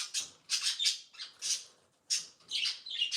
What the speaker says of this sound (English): Jeez, my birds. They're always so loud.